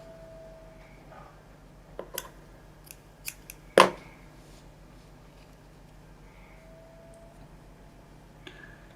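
Scissors trimming a piece of crochet yarn, a few soft close snips building to one sharper cut, then a quiet room hum.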